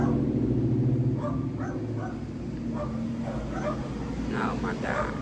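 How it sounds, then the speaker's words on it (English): A dog barks in a few short bursts partly under a voice talking, set against a steady low hum of background noise. "I've been dealing with the barking all day."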